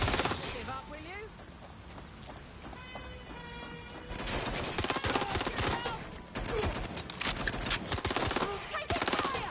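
Rapid automatic gunfire in the video game Watch Dogs: Legion, dense bursts of shots crackling through the second half amid game sounds and voices talking.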